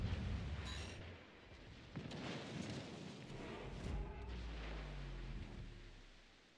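Heavy naval gunfire from warships in World of Warships Legends, including the cruiser Anchorage firing armor-piercing shells, rolls as deep booms and rumbling blasts amid continuous battle noise.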